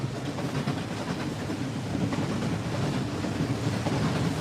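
A train rolls past nearby, a loud continuous rumbling roar with a faint rhythmic clatter of wheels on track, unbroken for the few seconds heard.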